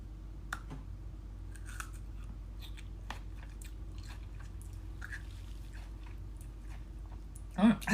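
Biting into and chewing a raw British gooseberry, a very sour fruit with thick flesh and tiny seeds, giving faint moist crunches and small clicks scattered over a quiet background, with a sharper louder bite near the end.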